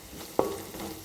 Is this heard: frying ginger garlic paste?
yes